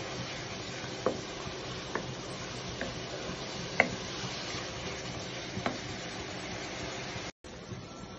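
Spice paste with chili powder stir-fries in oil in a pan, hissing steadily with occasional ticking scrapes of the spatula, then cutting out abruptly near the end.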